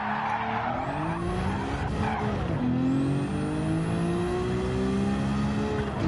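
A GTR in a racing video game sliding under the e-brake, tires squealing in a long continuous skid over a steady engine drone, loud and close.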